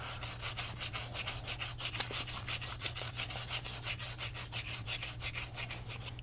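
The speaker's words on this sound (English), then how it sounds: "Turn it once, rub it." Steady back-and-forth rubbing on a part of an Atari logo joystick being restored, a rapid, even rhythm of close, dry scrubbing strokes running throughout over a low constant hum.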